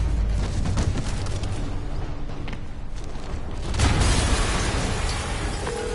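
Explosion in a Spider-Man video game, a deep rumbling blast that swells partway through and rolls on under a dense, noisy game soundscape with no talking.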